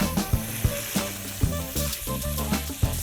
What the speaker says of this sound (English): Add in the minced lamb. And we're just going to brown this off.